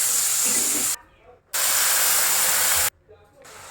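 Loud, bright sizzling bursts as water is poured into a hot pan of frying pointed gourd vines with turmeric, two strong hissing surges each lasting about a second or more, separated by brief quieter gaps.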